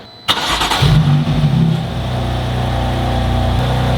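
An M4's engine cranks and fires up loudly from cold with the exhaust valves closed, revs briefly, then settles into a steady, rough idle close by.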